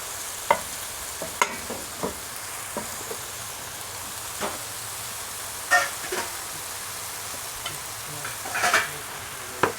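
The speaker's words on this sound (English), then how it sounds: "all I do is I spread them out in the oil and create little" Noodles spread into small cakes fry in hot oil in a pan, giving a steady low sizzle with scattered sharp crackles and pops throughout, close and alone without talk.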